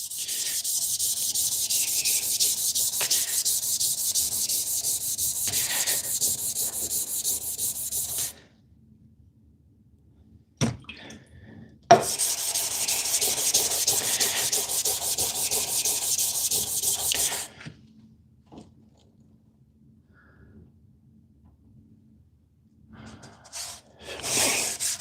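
Wet-or-dry sanding with 2500 grit sandpaper to bring a surface to a shine: steady close rubbing strokes in two long stretches separated by quiet, with a couple of sharp knocks in between.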